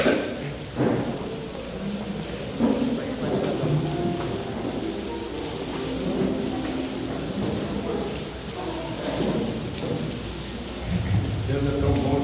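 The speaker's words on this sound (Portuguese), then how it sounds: "Deus é tão bom que até na hora da ceia manda chuva." Heavy rain pours and thunder rumbles outside during a Sunday communion service at a church, a dense steady hiss with rolling low booms, and a voice speaks faintly beneath the storm.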